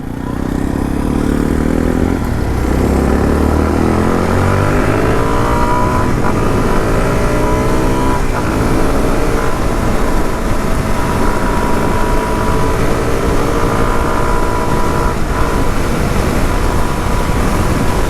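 Suzuki DR-Z4S motorcycle with a 398 cc engine accelerating onto a highway, a loud, steady engine roar climbing through the gears with wind rush, continuous for the whole stretch with no talking.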